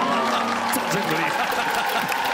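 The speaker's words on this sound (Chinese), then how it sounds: "掌声鼓励" A studio audience at a Taiwanese TV variety show applauds in a steady, dense wash that fills the whole moment, with voices talking over it.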